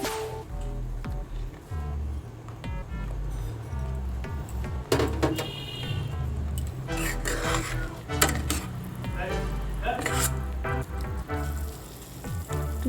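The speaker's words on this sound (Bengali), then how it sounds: "সেদ্ধ করা ডিমগুলো দিয়ে দেবো।" Boiled eggs added to a pan of green egg masala and stirred, with repeated scraping and clinking of a utensil against the pan over a steady low sizzle, close and busy, with a few sharper knocks.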